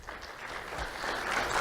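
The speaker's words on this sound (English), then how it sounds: "Let's have a round of applause for Ariana Davis." Audience at a school awards ceremony applauding an honoree, a short, soft patter of clapping that swells slightly toward the end, heard from a distance with no talk over it.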